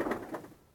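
Pigeon in a breeding loft giving a short, soft coo, two muffled low pulses heard faintly and alone.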